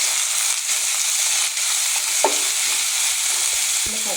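Ginger and garlic sautéing in hot oil in a pan, a steady bright sizzle with occasional stirring scrapes and taps, close and continuous.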